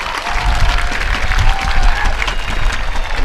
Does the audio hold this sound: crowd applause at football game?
yes